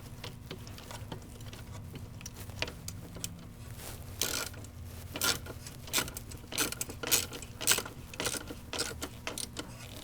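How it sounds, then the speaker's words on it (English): A ratchet wrench with an extension tightening a bolt on a BRP thrust vector nozzle, rapid clicking bursts that grow louder toward the end, close and alone. "Torque it down snug. Not overly tight, but just enough to where you know that it's not coming off."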